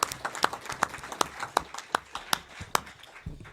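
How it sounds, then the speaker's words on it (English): At a board meeting, a few people clap in sparse, distinct hand claps, with an uneven rhythm of separate sharp claps rather than a full crowd roar. "So give Bob a round of applause."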